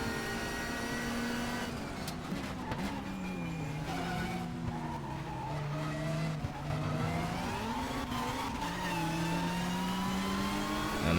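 Several race cars from the 1992 British Touring Car Championship at Brands Hatch Indy, in the game Race 07, rev loudly together in a drag race, with engine notes rising and falling steadily through the whole stretch.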